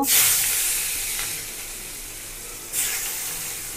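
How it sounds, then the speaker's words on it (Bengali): Chopped onion hits hot oil already seasoned with cumin in a kadai, giving a loud, hissing sizzle that flares at once, settles to a steady crackle, then surges again near the end. "তো এখন হচ্ছে পেঁয়াজ দিয়ে দিব।"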